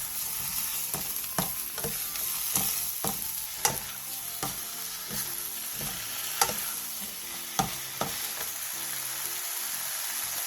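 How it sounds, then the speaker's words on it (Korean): Minced garlic and a splash of soju stir-fry over medium-low heat, a soft continuous sizzle punctuated by regular spatula clacks against the pan. "소주 1컵과 다진 마늘 반 스푼을 넣고 중약불로 줄여 3분 정도 더 볶아주세요."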